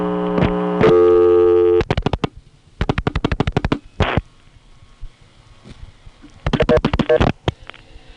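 Tones on a 1976 telephone trunk follow rotary dialing: a held steady tone, then several rapid trains of dial pulse clicks, with short tone bursts and faint crosstalk in between.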